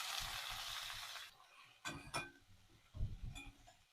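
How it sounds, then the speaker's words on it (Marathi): Chopped radish leaves go into a hot pan with ground masala and asafoetida, giving a soft, brief sizzling hiss that cuts off after about a second. A few faint clinks of a utensil follow in an otherwise quiet kitchen. "चिरलेली मुळ्याची भाजी टाकते."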